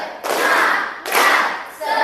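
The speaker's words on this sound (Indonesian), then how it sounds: "tepuk semangat." A school class claps together in loud, unison bursts, two long rapid volleys followed by the start of a third, as part of a rhythmic cheer routine.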